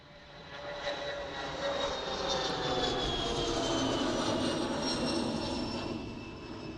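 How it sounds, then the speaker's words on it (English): An airplane engine roars steadily at Manchester Airport as the aircraft passes, swelling louder through the middle and easing off toward the end, with a broad rushing drone and faint whining tones. "That's a cool little aircraft, isn't it?"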